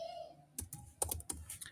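Several quick keystrokes on a computer keyboard while entering a command in AutoCAD, short clicky taps clustered in a brief burst with a pause between groups, close and fairly quiet.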